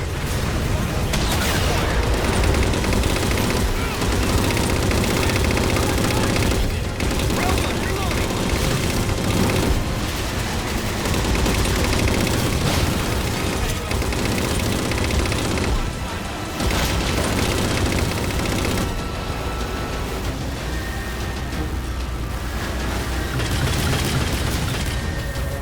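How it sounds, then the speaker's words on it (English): A railgun firing at Phantom dropships in the video game Halo 4, a continuous barrage of loud, heavy booms and blasts layered over dense battle noise, with voices talking over it. "Target those phantoms for the railgun to shoot down."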